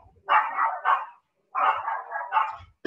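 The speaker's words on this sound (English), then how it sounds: "Those are my dogs." Dogs bark indoors during a yoga session at home, two loud close bursts of three or four rapid barks each separated by a short pause.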